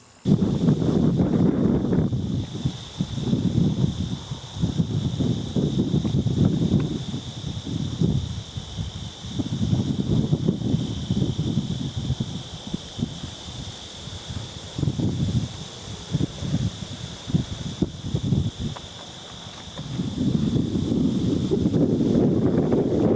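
Strong gusts of wind buffet the microphone in loud, rumbling surges, easing briefly before picking up again, with a constant high hiss.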